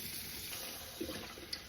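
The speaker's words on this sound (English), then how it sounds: "I'm gonna put a whole container of the chicken stock in" Chicken stock pours from a container into a pot holding ham hocks for a Sunday dinner, a quiet steady liquid trickle and splash heard alone.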